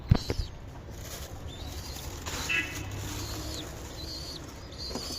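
Pigeons coo faintly and their wings flap as a backyard coop holding young birds is opened, with repeated soft calls over rustling and a few sharp handling knocks nearby.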